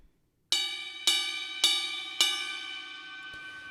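Four evenly spaced drum stick strikes on the bell of a ride cymbal ring out bright and clear, each ping sustaining into the next and fading slowly, close and alone in quiet.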